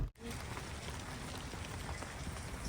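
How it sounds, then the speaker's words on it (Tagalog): Steady rain falls in Iowa, a close, continuous hiss of drops that stays loud and even throughout with no talking. "Inabot na kami ng ulan."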